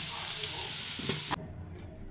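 Snake gourd frying with fish roe in a pan, a steady sizzle with stirring scrapes that drops off sharply partway through as the heat is cut, leaving a faint hiss.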